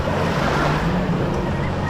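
Surf rolling onto a Polish Baltic Sea beach of fine white sand in mid-August, a steady, loud wash of waves with wind buffeting the microphone and no voices.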